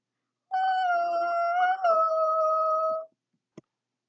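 A voice imitates the strange, haunting calling voice from Frozen 2: a sustained, wavering wordless tone that shifts pitch about midway through, followed by a brief click.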